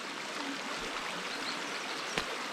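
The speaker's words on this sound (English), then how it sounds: "You see the waterfall?" Continuous rushing of a waterfall on a hiking trail, an even, moderately loud flow with no speech and a single brief knock near the end.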